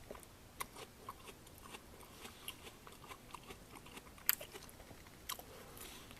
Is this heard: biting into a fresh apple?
yes